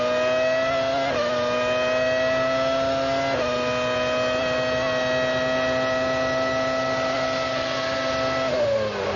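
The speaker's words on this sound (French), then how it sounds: "Écoutez le moteur Mercedes dans la McLaren du leader, Hakkinen." Mercedes V10 engine of the McLaren Formula 1 car at the 1998 Austrian Grand Prix, a loud sustained high-pitched scream holding steady revs, with two brief downshift dips and a drop near the end, no voices.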